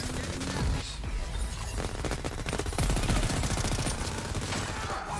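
Sustained rapid gunfire from the video game Crackdown 3, dense bursts of automatic shots and impacts running continuously and loud throughout.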